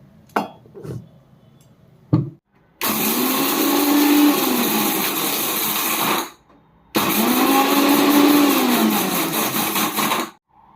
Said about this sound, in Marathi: आपल्याला हे डाळ तांदूळ आहे ना वाटून घ्यायचं आहे